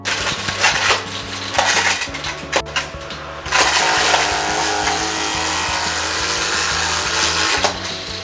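A Dyson V11 cordless vacuum whines steadily while small plastic Lego bricks rattle and clatter loudly through it, with a brief pause before the motor surges again.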